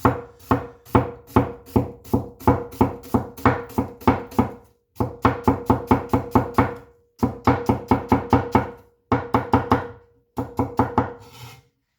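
Deng TA-03 Chinese cleaver chopping through food on a board, a fast steady run of sharp knocks in several bursts separated by short pauses, close and loud with no voices.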